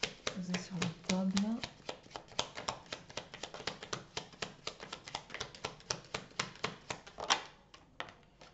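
Tarot cards shuffled by hand on a table for a love reading, a steady run of quick papery riffles and taps, close and fairly quiet, with a brief voice near the start.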